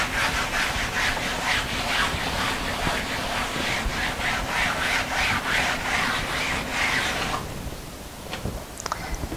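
A sponge wipes down a canvas coated in Liquitex High Gloss varnish, giving steady rhythmic rubbing strokes, close and fairly loud, for about seven seconds before stopping, followed by a few faint small knocks.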